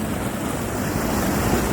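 Steady rushing roar of falling water, constant and loud throughout with no pauses.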